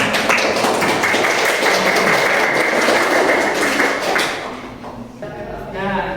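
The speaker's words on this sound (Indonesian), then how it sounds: "Tepuk tangan." Students clapping in a photography class, a dense and loud patter of hands that fades out toward the end, followed by a short stretch of voices.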